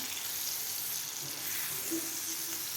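Mango barfi mixture is stirred and roasted in a pan on a low gas flame, giving a soft, continuous sizzle with faint scraping from the stirring.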